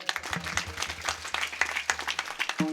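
An audience claps together at a Marathi kirtan devotional gathering, a fairly loud burst of mixed handclaps over a steady low hum from the sound system, fading slightly toward the end.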